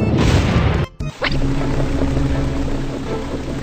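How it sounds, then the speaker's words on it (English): Storm effects in a children's pirate ship video game: a loud, dense roar of wind and crashing water, briefly cut by a short gap and a rising whoosh, then a steady rushing wash with a faint tonal hum. "There is a storm."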